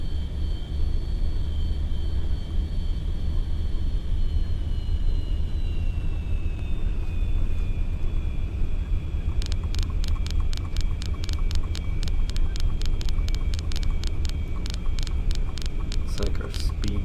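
An MD-80 airliner in X-Plane 11 (Rotate Sim) rolls for takeoff, with a loud, constant engine roar and a whining tone that slowly drops in pitch, later joined by a rapid string of clicks.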